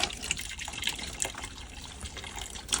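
Hot water pours steadily from a kettle, a continuous close splashing and trickling with no speech.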